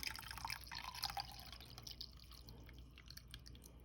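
Red pine needle tea poured through a strainer, faint splashing and dripping liquid up close, busier at first and then settling into lighter trickles.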